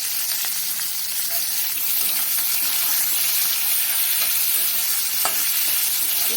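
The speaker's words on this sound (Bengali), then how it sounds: "এবারে আমি পেঁয়াজ কুচিগুলো দিয়ে দেবো।" Diced onions and two or three green chillies fry in hot oil, a loud continuous bright sizzle with occasional stirring scrapes, close and steady with no talking.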